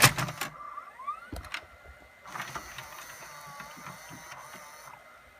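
A JVC DR-MV150B VHS and DVD combo deck loads a tape, with a sharp mechanical clunk and clicks followed by a steady whirring, ratcheting motor as the mechanism threads the tape around the head. The sound is close and clear, with no talk.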